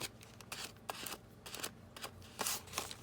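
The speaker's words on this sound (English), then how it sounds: "These, at this point, I should use my scissors." Scissors snip through junk mail envelope paper in a series of short, uneven cuts, close up and fairly quiet, with faint paper rustling between the snips.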